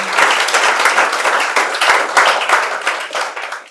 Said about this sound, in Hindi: तो इसके लिए तो ताली बजा दीजिए आप।